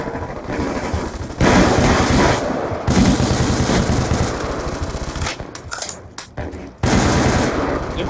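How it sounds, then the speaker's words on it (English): Sustained automatic weapon fire on the Nuketown map in Call of Duty Black Ops 2, loud bursts of rapid shots with brief pauses between volleys. "Hey, stop shooting me!"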